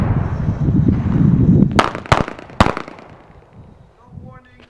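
Gunshots during tactical firearms training: three sharp, loud, close reports in quick succession over a rumbling, breezy background, followed by quieter outdoor noise.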